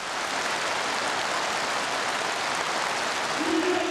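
A large assembly at a North Korean political meeting applauds fervently as an oath is adopted, a dense, steady roar of clapping that holds at an even level throughout.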